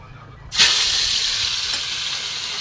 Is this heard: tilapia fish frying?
yes